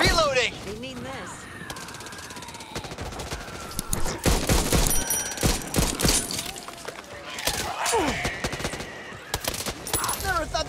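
Back 4 Blood on PS5 unleashes sustained automatic gunfire mixed with shattering and crashing impacts, loud and chaotic throughout, with brief lulls between heavy volleys and a character's voice faintly under the din.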